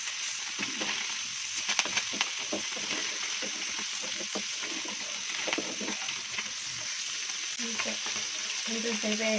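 Small nethallu fish fry in hot oil in a pan, a steady close sizzle with soft scraping as they are turned gently, continuous and fairly loud with no voices.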